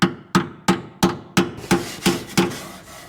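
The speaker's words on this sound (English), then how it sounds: "take this little happy center punch. And I'm gonna punch the metal" A small center punch is struck repeatedly against sheet metal on a Suburban, giving eight sharp, evenly spaced metallic taps, each ringing briefly before the next, loud and close with no talking.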